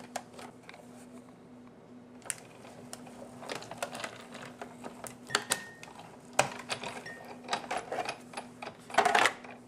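A die-cutting machine feeds a Tim Holtz die sandwich through for a metal tag, giving irregular clicks, ticks and mechanical clatter that grow busier toward the end over a faint steady hum.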